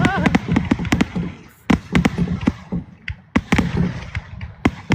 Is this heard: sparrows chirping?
no